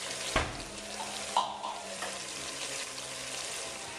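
Onions sizzling with browned meat in a pan, a steady frying hiss with a couple of clunks of a utensil against the pan.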